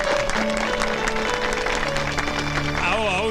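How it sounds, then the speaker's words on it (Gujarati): An audience claps steadily for a singer, a dense ongoing patter of applause mixed with a voice and musical tones. "તાળીઓ"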